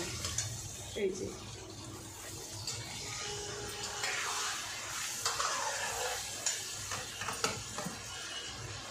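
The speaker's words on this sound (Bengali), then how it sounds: "দেখো পেঁয়াজগুলো ভালো মতন ভাজা ভাজা হয়েছে" Onions and potatoes fry in a pan with a low sizzle while a spatula scrapes and clicks intermittently as spices are stirred in. A voice can be heard faintly at times.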